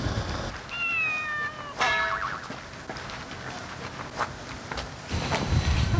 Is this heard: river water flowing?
no